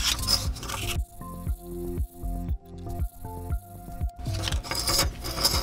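Finer grit sandpaper rubs over enamel backfilled into a metal engraving, giving a run of close, rhythmic rasping strokes with short pauses between them and no talk.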